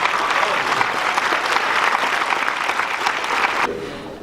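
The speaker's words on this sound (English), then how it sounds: "Let's give Stephanne a round of applause." A crowd at a fundraiser applauds steadily and fairly loudly for about three and a half seconds, then the clapping cuts off abruptly.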